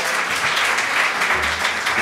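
An audience at an Erasmus+ adult education conference claps in dense, continuous applause that holds at an even, fairly loud level throughout, with no voices standing out.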